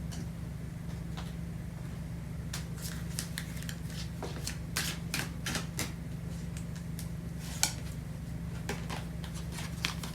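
Tarot cards are shuffled at a quiet indoor table, giving soft, scattered flicks and snaps over a steady low hum, busiest in the middle stretch and otherwise faint.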